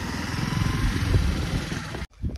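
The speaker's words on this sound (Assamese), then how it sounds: "বাইকত গৈ আছোঁ চলো" A motorbike carries riders along a road toward a hillside viewpoint near Guwahati, its engine giving a steady, close, loud rumble that cuts off abruptly near the end, followed by a brief rustle; no talk.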